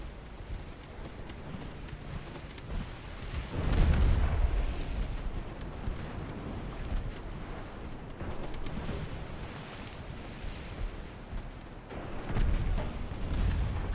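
Naval guns firing during an 1890-era battle in the game Ultimate Admiral: Dreadnoughts, with a few deep booming blasts rising out of a low, rumbling background, the heaviest near the start and another near the end.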